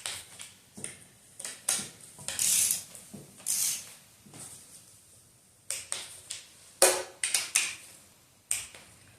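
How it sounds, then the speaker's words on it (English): Oil pan bolts on a 5.7 Hemi V8 being torqued to spec with a torque wrench, giving a series of sharp metallic clicks and ticks at irregular intervals, close up against a quiet background. "we're going to torque our oil pan bolts, 110 inch-pounds."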